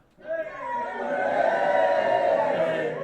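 A Syrinscape crowd sound effect plays during a tabletop fantasy game session: a swelling roar of many voices cheering and shouting, steady and loud after a quick rise.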